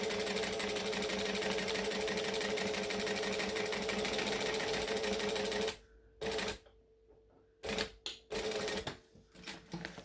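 A sewing machine stitches the edge of an NCW bag, its needle whirring in a fast, even rhythm for about six seconds, then stopping and starting in short bursts as the fabric is pivoted, close up with no talking.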